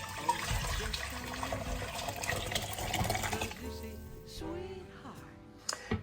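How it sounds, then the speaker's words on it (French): Chicken broth poured from one pot into a smaller soup tureen in a kitchen: a steady splashing, gurgling stream close by that thins and stops after a few seconds, followed by light clinks, while someone speaks throughout. "Je transvase le bouillon dans une soupière plus petite."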